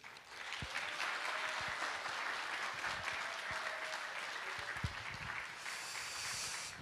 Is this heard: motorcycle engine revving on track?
no